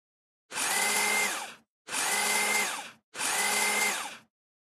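Three short bursts from a powered screwdriver driving AM screws into oiled metal parts of a RoboCop model kit, each about a second long with a rising and falling whine, close and loud with no talking.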